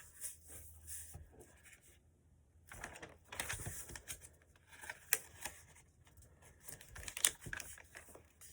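Paper is creased and handled close up while making an origami rabbit ear fold for a fighter jet model. Soft crinkles and sharp pressing rustles come in short, irregular bursts with quiet pauses between them.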